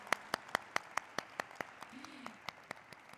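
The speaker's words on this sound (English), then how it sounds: "let's have a thunderous round of applause for Jain Resource Recycling Limited" Sparse, separate claps ring out at an audience event marking a company's stock listing, a thin round of applause with a faint voice tone passing briefly underneath.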